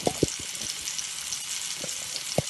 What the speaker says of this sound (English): half of the batch of meatballs gently pan frying